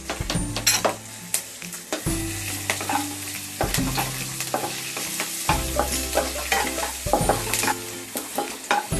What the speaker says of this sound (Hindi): कटे हुए लहसुन डाल देते हैं, अदरक, हरी मिर्च। इसे हम कुछ सेकंड के लिए भून लेते हैं।